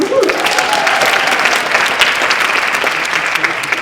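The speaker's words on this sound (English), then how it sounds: "Please give yourselves a round of applause." An audience at an improv talk claps steadily and loudly, a dense continuous wash of applause from many hands that holds for several seconds without a break.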